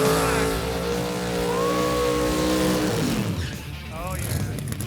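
A 1968 Chevy Camaro roars through a drag racing pass with a loud, steady engine note that climbs in pitch through the gears before dropping off, and a voice talks over it.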